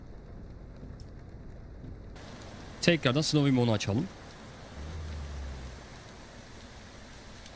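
Rain in the truck driving game Euro Truck Simulator 2 hisses as a steady broadband wash that starts partway through, with someone speaking briefly over it.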